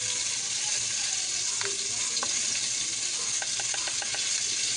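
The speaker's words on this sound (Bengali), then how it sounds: "পটলটা আরেকটু লাল লাল করে ভেজে নেব" Pointed gourd (potol) pieces frying in a pan, a steady bright sizzle throughout with a few scraping stirs and light clinks of a spatula near the end, close and loud, no talk.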